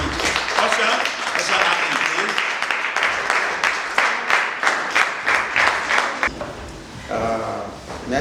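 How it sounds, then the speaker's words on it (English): An audience at a London seminar gives a standing ovation, loud sustained applause with dense, rapid clapping that thins into scattered individual claps near the end, voices murmuring underneath. "give her a standing ovation, a round of applause"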